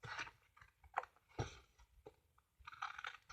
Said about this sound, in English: So you come in with your scissors,